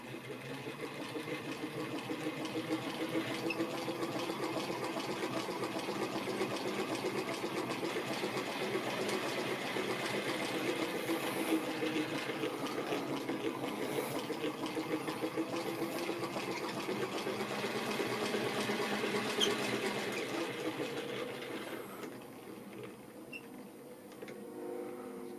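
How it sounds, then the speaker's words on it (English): A c1910 New National treadle-style sewing machine made by New Home, hand-cranked to wind a bobbin, gives a steady, close whirring mechanical drone that runs evenly for about twenty seconds, then eases off and softens near the end. "we press the bobbin winder up against the drive and turn the crank and wind the bobbin"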